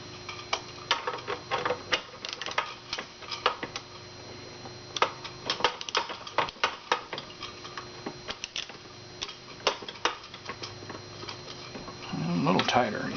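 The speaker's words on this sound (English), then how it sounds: "Grab your ratchet with a 3/4 inch socket." A ratchet with a 3/4 inch socket tightens a bolt on a Park-O-Meter parking meter, making irregular bursts of quick metallic clicks and ticks close by, with someone talking at times.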